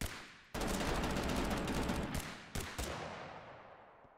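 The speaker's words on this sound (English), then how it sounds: "Try to take out these guys that are shooting each other" Gunfire in Totally Accurate Battlegrounds: a sudden rapid burst of shots that rings on, then a second short burst before fading into a reverberant tail.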